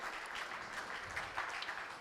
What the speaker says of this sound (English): Can you give a very big round of applause to Dr. Preeti Ganesh?